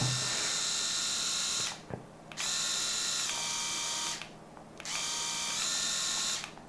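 A VYLTO 7D electric shaver runs with a close, high-pitched buzzing whir in three bursts, each separated by a brief silent pause as it switches off and on again.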